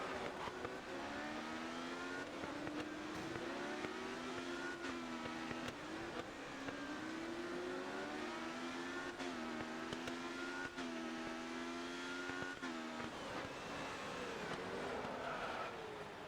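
Race car engine screaming flat out in GRID Autosport, a loud continuous high-revving drone with rising pitch sweeps and brief dips at gear changes, running throughout without talk.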